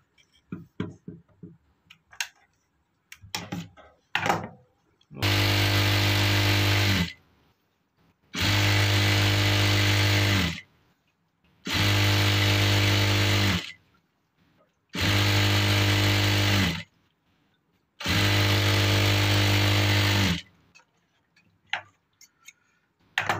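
A sewing machine stitches a fabric frill for a sleeve in five loud, steady runs of about two seconds each, separated by short pauses, with faint handling clicks before the first run.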